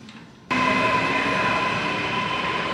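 A train rolls through a station in Vicenza, Italy, its steady rumble and rail noise starting abruptly and staying loud and close throughout, with a faint high squeal of wheels riding on top.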